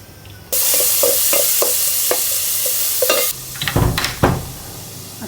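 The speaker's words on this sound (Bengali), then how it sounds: "আমি সামান্য একটু ফোড়ন দিব, সামান্য অল্প একটু তেলে সাথে।" Onion and garlic dropped into a little hot oil for tempering: a sudden loud sizzle with rhythmic spoon stirring, then quieter spitting and clatter from the pan.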